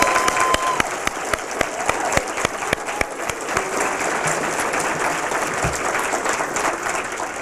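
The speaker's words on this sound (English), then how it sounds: "So if we could give him a round of applause." Loud, sustained audience applause for a school choral director and educational leader at a scholars' awards night, with a few sharp claps standing out early before settling into a steady roar.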